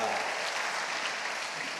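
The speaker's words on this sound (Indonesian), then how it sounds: "Tepuk tangan yang meriah" Church congregation at an Easter service applauding, a dense, steady wash of clapping from a large crowd, heard briefly and evenly throughout.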